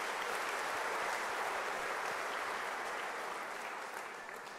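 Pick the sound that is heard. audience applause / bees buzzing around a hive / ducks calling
audience applause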